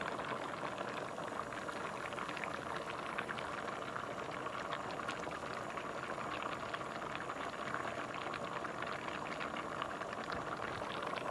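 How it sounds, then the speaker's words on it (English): A pot of cassava leaves bubbles and simmers steadily for several seconds, a dense continuous boil close by, with no one speaking. "This is a cassava leaf cooking."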